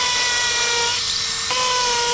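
A hammer drill bores anchor holes into concrete for a railing installation, a loud, steady high-pitched whine with a brief change in tone midway, running continuously without voices.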